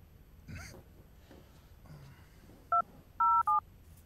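Telephone keypad tones entering an account number on an automated phone line, a few short, loud, clean beeps in quick succession near the end after a quiet stretch.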